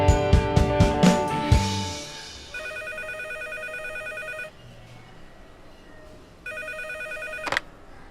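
Telephone ringing in a radio drama on FM, a piano-like musical sting fading out, then two electronic ring bursts separated by a quiet gap, clear and fairly close with a short thud at the end.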